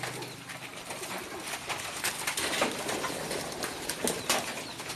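Pet pigeons flap their wings in busy, repeated bursts with soft cooing mixed in, close by and fairly steady throughout, with no talk.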